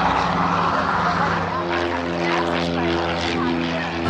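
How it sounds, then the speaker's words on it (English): Propeller aircraft engines drone steadily nearby, a buzzing, throbbing roar that stays loud throughout the short stretch. "Just watching some planes take off."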